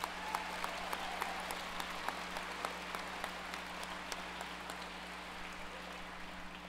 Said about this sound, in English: Graduates, give your family and friends a welcome round of applause.